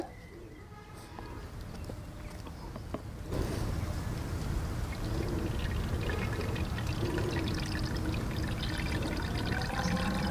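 Fork oil poured into the fork tube of a Royal Enfield Classic 350 Reborn, a steady close liquid stream that grows fuller partway through and continues without speech.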